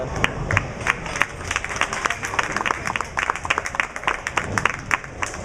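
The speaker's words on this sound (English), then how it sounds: "nice round of applause for her" A bowling-alley crowd gives a scattered round of applause, many individual claps spread across the room at moderate distance, with a voice talking over it.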